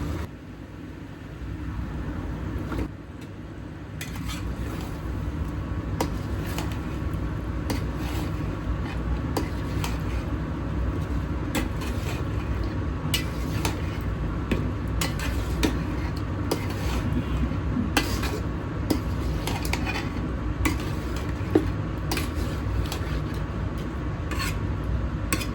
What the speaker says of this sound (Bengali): মাংসটা ভালোভাবে কষিয়ে নিচ্ছি